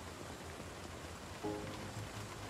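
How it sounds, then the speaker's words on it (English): Rain falls steadily in the survival game Project Zomboid, a soft continuous patter on surfaces at low volume with no other sounds above it. "I don't know if I'm getting rained on or not."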